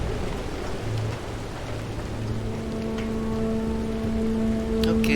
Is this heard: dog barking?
no